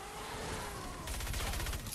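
The SWAN rifle in Fortnite Save the World fires a rapid burst of game gunshots, dense and continuous, growing louder in its second half.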